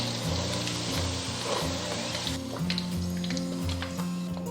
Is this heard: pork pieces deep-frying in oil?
yes